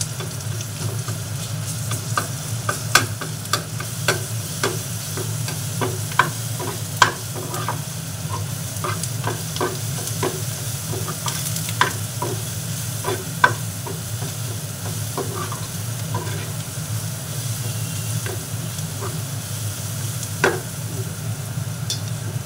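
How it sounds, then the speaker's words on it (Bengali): Garlic paste sizzling with lightly fried onions in a pan, a steady close frying hiss broken by repeated scraping stirs. "এর মধ্যে আমি রসুন বাটাটা দিয়ে দিলাম"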